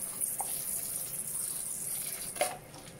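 White distilled vinegar pours into homemade hot chilli sauce, a steady close liquid rush with a brief louder splash near the end.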